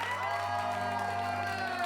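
An improv comedy audience cheers and whoops with some clapping to vote for a film, a continuous crowd roar of voices under sustained noise.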